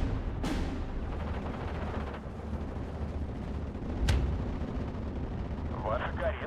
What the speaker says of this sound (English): There's their artillery.